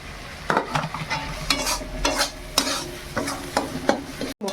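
Masala fries in hot oil while a spatula stirs it, making a series of quick, rhythmic scraping strokes over a low sizzle, close and clear.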